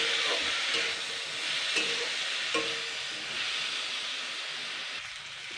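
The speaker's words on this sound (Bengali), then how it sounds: "এবার এটাকে কিন্তু একটু ভাজা ভাজা হবে, হালকা সিদ্ধ হবে" Tomatoes cooked down with salt and sugar sizzle steadily in a pan, a constant close hiss broken by a few soft stirring knocks, with no talking.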